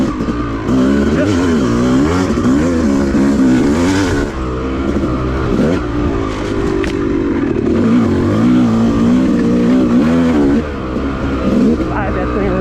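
A Yamaha YZ250 two-stroke dirt bike on a wooded OHV trail is ridden hard and slid around a corner, its engine loud and close throughout, revving up and down in quick swells with brief dips in throttle.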